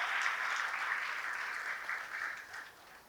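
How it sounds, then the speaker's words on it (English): Audience applause at a celebration event honoring ability in disability, a soft, distant wash of many hands clapping that holds steady and then fades slightly toward the end. "Big round of applause to her"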